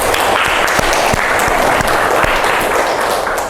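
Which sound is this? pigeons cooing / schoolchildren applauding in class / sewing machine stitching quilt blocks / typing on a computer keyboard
schoolchildren applauding in class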